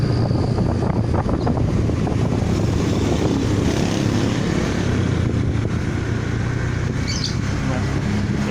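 Honda Beat FI scooter test ridden along a hilly route, its engine droning steadily under heavy wind buffeting on the microphone throughout.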